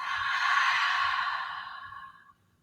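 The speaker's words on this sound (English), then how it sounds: "And exhale out through the mouth." A long, breathy exhale out through the mouth during a yoga flow, airy and steady, holding strong for about two seconds before fading out, close and calm with no talking.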